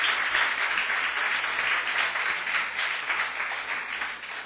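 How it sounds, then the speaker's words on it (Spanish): A church congregation claps during a Spanish-language service, dense sustained applause that holds steady for several seconds before gradually thinning. "Démosle una fuerte ofrenda de aplauso al Señor."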